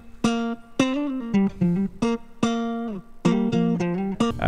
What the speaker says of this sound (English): This is a loop from the guitar sample pack.